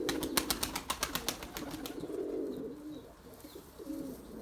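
A young pigeon chick calls in a rapid run of short peeping notes, then gives softer cooing sounds from the birds nearby, close and fairly quiet.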